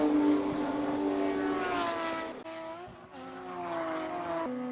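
GTB1 class race cars at Lime Rock Park roar past through a right-hander, engines held at high revs with sharp drops on gear changes, loud and close, with a second car following.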